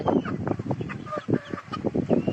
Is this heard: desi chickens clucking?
yes